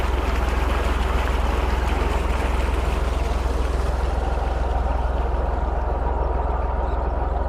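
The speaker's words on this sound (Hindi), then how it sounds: "ये यहाँ पर नालों के ज़रिए आगे किन्नू के बाग में पानी जा रहा है" Irrigation water from a tubewell rushes steadily through channels toward a kinnow orchard, a loud, continuous broadband gushing with no breaks or voices.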